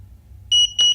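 An underwater drone's handheld remote gives two short, bright electronic beeps in quick succession as it powers off, close and clear against quiet.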